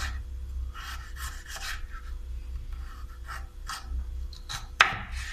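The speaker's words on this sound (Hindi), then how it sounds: "इसको हम काटेंगे स्लाइस में पहले, फिर इसको जूलियन काट के रखेंगे हम" Knife slicing ginger on a cutting board, a series of soft scraping, rasping cuts at an uneven pace, close and fairly quiet, ending with a sharper tap.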